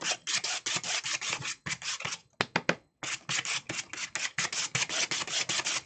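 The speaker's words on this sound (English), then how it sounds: "dip my credit card into that paint and scrape it that way" Acrylic paint scraped with a credit card in rapid repeated rasping strokes, close and fairly loud, with a brief pause partway through and no talking.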